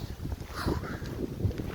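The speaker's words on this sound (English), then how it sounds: "It's too windy here." Gusty wind buffets the microphone with low rumbling thumps, moderately loud, with a faint whoosh drifting through.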